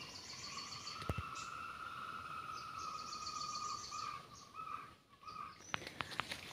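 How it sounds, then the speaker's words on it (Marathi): Many birds call over one another around a Kokan village, with chirps and repeated whistled notes above a steady insect-like drone. The chorus carries on throughout, with a brief dip near the end. "पक्ष्यांचे एवढे आवाज ऐकायला येत आहेत ना की मला ओळखता सुद्धा येत नाही आहेत"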